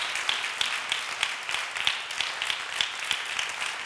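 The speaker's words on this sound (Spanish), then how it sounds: "Le recibimos también con un aplauso." An audience at a hospitality and climate gathering claps to welcome a panelist. The applause is moderate and continuous, a little distant, with a few sharper individual claps standing out.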